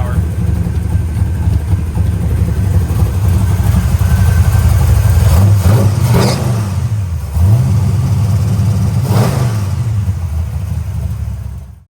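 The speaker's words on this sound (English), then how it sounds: "the truck moves under its own power, which is great" Pickup truck engine running steadily and rising in revs as the truck moves under its own power in a junkyard, the note climbing and falling twice, loud and close with no talk.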